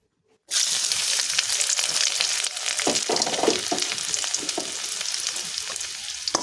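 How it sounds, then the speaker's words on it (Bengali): Chopped garlic dropped into hot oil, an abrupt loud sizzle that bursts in after a moment of silence and carries on as a steady crackling fry with scattered pops, heard close and alone. "এবার এই তেলের ভিতরে আমি দিয়ে দেব রসুন কুচি।"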